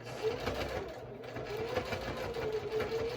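A domestic sewing machine top stitches across the top of a thick fabric wallet, its steady mechanical hum running continuously at close range with a rapid needle rhythm.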